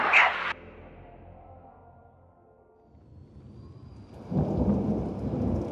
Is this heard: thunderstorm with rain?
yes